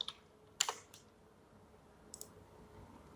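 Computer keyboard keys tapped while typing code, a few sharp close clicks in two small bursts against a quiet background hum.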